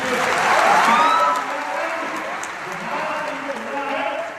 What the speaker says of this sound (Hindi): आप सब ताली से उनको स्वागत करते हैं